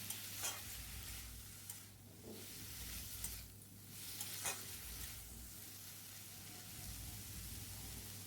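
Soft, steady stirring of pumpkin greens, lentil fritters and chunks of boiled potato in a pan, with a faint sizzle and gentle scraping strokes throughout, quiet and close.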